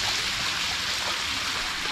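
Water at Ghagra waterfall rushes in a dense, steady roar, close and continuous without a break, with no voices or other sounds over it.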